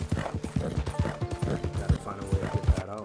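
Horse hooves clip-clop steadily in the Red Dead Redemption 2 game world, a repeated rhythmic gait of close, moderately loud hoofbeats mixed with game sounds and a background voice.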